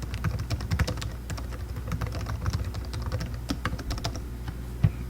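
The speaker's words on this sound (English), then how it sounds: "So let me just type something in here." Close, steady typing on a computer keyboard while text is entered into a web page editor. The keystrokes come in quick irregular bursts with a few louder clacks, and no one speaks.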